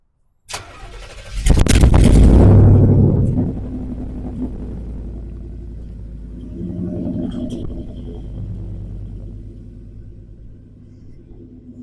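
A Chevrolet squarebody Blazer with a 350 V8 cranks and catches with a loud roar, then settles into a steady, lower rumbling idle nearby, with no voices.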